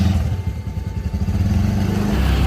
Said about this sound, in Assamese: এইখন মোৰ স্কুটাৰ আগত আছে।